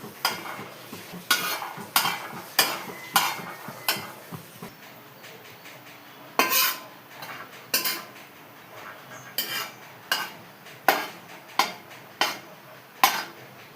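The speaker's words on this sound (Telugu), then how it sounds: "బాదం పిక్కలు ఎలా వేగే చూసారు కదా, ఇవి కూడా సైడ్ అండ్ ప్లేస్ చేసుకోవాలి." Almonds and cashews roasting in a pan, a spoon repeatedly scraping and tapping against the metal in regular sharp clinks about once a second, close and fairly quiet with no speech.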